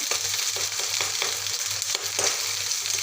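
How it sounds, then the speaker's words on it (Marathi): Garlic and coconut paste sizzling with cooked onions in a pan, a constant close hiss with regular stirring strokes scraping through it. "कांदा शिजलेला आहे आता मी लसण आणि खोबऱ्याची पेस्ट घालणार आहे"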